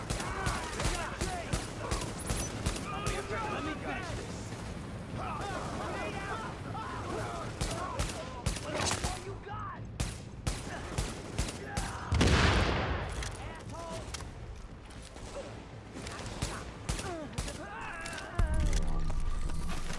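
Rapid bursts of automatic gunfire from The Division 2 during a firefight, crackling in repeated volleys and single shots, with a heavy blast midway and voices talking throughout.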